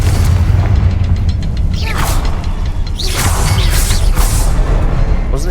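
A Confringo spell explosion from the video game Hogwarts Legacy in a goblin mine gives loud booming blasts with whooshing bursts and mechanical rumble, layered over dense game ambience.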